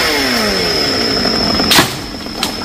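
A chainsaw cuts small, leaning Sao tree branches, running at a steady loud drone with a high whine, then two sharp bursts near the end as the cut bites.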